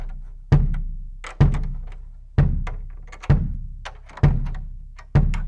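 Bass drum struck during tuning, six evenly spaced deep booming hits, each with a thudding attack and a ringing decay, close and loud, with no voices.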